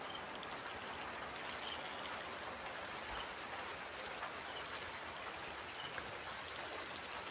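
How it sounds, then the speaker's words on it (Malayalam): A watering can pours Pseudomonas solution over young cabbage and cauliflower plants, a steady, soft, continuous shower of water pattering on leaves and soil throughout, fairly quiet with no voices. "സ്യൂഡോമോണസ് നമുക്ക് നമ്മുടെ ഈ വാട്ടറിങ് ക്യാനിൽ ഒഴിച്ചിട്ട് നമുക്കതൊന്ന് നമ്മുടെ ഈ ചെടികൾക്കെല്ലാം ഒഴിച്ചു കൊടുക്കാം"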